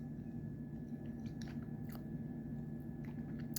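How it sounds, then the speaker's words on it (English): Gum chewing close to the microphone makes soft, faint, irregular wet clicks and smacks over a steady low hum, with no talking. "Excuse my gum chewing."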